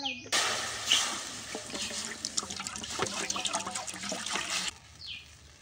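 Water pours into a wok on a stove for boiling pasta, a steady splashing stream running for about four seconds, close and moderately loud, with no one speaking.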